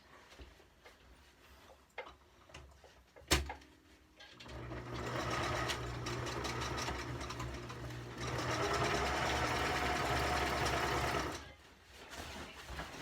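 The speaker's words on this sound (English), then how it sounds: "And then we just sew the rest of it out." Sewing machine stitching tough sleeping bag material with decent thread, a steady whirring run of rapid needle ticks in two long bursts after a few faint clicks and a sharp knock, close and loud.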